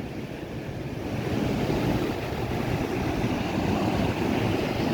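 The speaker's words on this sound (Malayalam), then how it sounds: "ഈ വെള്ളം താഴോട്ട് ചാടുന്നത്" Thuval waterfall at Ezhukumvayal, water dropping roughly 100 to 200 feet, gives a continuous loud roaring rush that swells slightly after the first second and stays steady.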